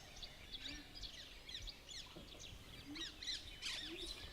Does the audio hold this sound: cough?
no